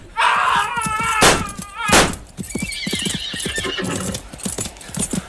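Horses neigh and whinny loudly with several drawn-out calls, over clattering hooves and shouting voices, in a tense sword-and-pistol skirmish set in a royal intrigue drama.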